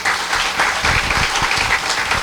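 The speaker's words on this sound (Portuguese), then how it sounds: "Palmas para o Moro." Audience applause during a talk, a steady dense patter of many hands clapping throughout, loud and even with no voices standing out.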